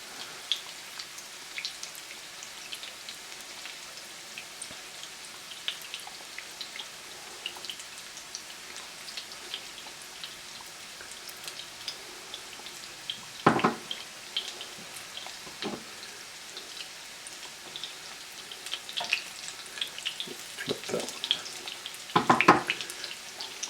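Portobello mushroom tots coated in Parmesan and Italian seasoning frying in a pan, giving a steady close sizzle and crackle throughout, with a few louder sputters and clatters near the end.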